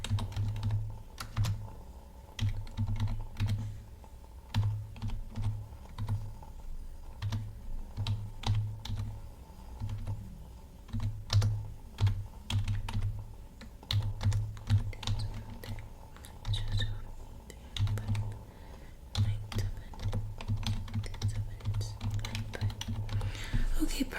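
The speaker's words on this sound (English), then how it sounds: "I'm gonna go ahead and type in your account number." Someone types on a computer keyboard in soft, quick bursts of clicks, with short pauses between bursts, recorded close up in a quiet library checkout setting with no talk over it.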